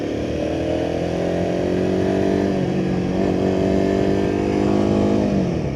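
A Royal Enfield Himalayan 450 motorcycle on the move, its engine droning loud and close as the revs rise and fall through several gear changes, with a continuous roar and no voices.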